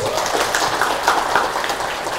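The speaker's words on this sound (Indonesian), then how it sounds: "beri tepuk tangan paling meriah untuk kita semua" A brief burst of lively audience applause follows a motivational talk on growth mindset, many hands clapping together in a dense, fairly close wash.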